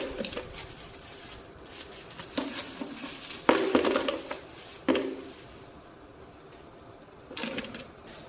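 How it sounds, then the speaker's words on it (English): Ice tossed from a bag into a greasy, clogged kitchen sink drain, giving a few sharp clattering crashes and rattling, scattered patter at close range, with quieter rustling between the impacts. "I'm about to throw the ice in"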